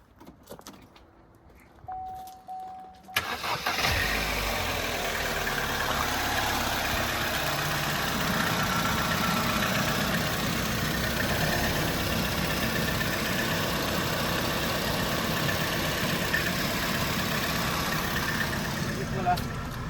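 A Chevrolet car engine idles steadily and loudly after a jangle of keys and a start, holding a continuous rumble with no revving, while people talk nearby.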